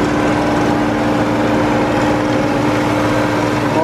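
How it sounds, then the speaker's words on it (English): A 1986 Cadillac Eldorado Biarritz engine runs at a steady, loud, close drone with an even hum and no pauses, and no voices are heard over it. "Motor."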